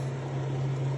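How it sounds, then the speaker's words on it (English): A microwave oven runs with a steady, loud low hum and an even fan whir, close by and unchanging, with no talking. "Microwave"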